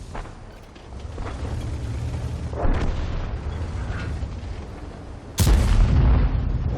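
A tank cannon in World of Tanks fires once with a sudden heavy boom near the end, preceded by mechanical rumbling and muffled distant blasts.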